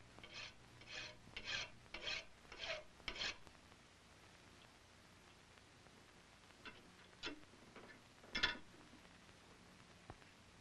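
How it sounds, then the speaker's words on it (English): A hand file rasping down the breech of a hand-forged gun barrel in a colonial blacksmith's shop: five or six steady back-and-forth strokes, then a few scattered scrapes, close but faint. "file down the breech of the barrel until the plug turns around to the proper"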